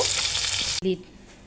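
Fried fish sautéed with onions in a pan sizzles loudly and close for under a second, then cuts off abruptly, followed by a brief voice.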